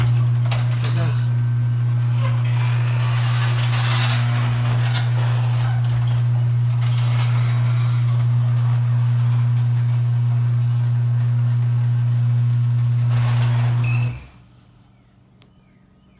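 A Craftsman garage door opener's motor drones steadily and loudly for about fourteen seconds while the door closes, with faint rattles and clicks on top, then cuts off into near silence.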